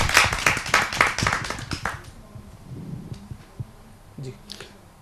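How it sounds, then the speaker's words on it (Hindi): Audience at a Hindi kavi sammelan applauds to welcome a poet, a retired ADC: dense, loud clapping for about two seconds that quickly fades into a quiet room with a few scattered claps and faint murmurs. "आइए जोरदार ताली से इनका स्वागत करें।"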